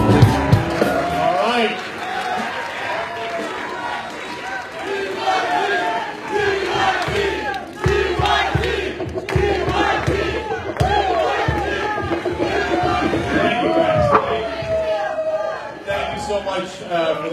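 A crowd at an outdoor climate rally in Los Angeles chants and cheers in rhythmic bursts, loud and continuous, with voices and shouting layered throughout.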